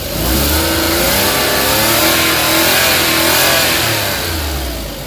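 A Suzuki DA64 engine that had been cranking without starting runs loud and close, its revs swelling and easing in a steady drone with no talk.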